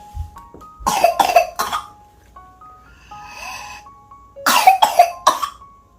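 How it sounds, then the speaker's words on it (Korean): A toddler of about nineteen months coughs while drooling: two close bursts of three or four harsh, wet coughs each, separated by a few seconds of quiet breathing and soft vocal sounds, with no talking. "침 흘리면서 기침한다"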